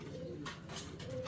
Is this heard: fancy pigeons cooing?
yes